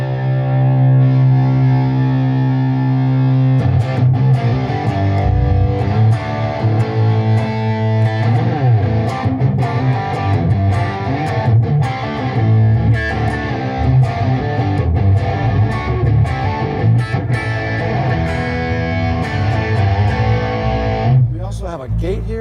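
Heavily distorted electric guitar through the crunch channel of a Peavey Invective 120 amplifier plays chugging metal riffs and chords, loud and close, with a crunchy, saturated tone throughout.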